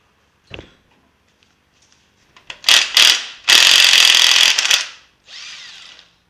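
Ratchet loosening the oil pump bolt on a Big Block Chevy engine during teardown: a faint click, then bursts of loud rapid ratcheting building to a long sustained run, ending with a softer stretch of clicking.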